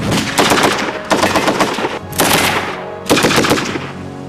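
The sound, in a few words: Bren light machine gun firing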